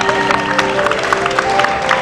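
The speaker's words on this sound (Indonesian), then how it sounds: "tepuk tangan dulu buat Mas Agung." A studio audience on a Trans TV talk show claps, a lively patter of hands mixed with a steady musical tone and light crowd noise, loud and close throughout.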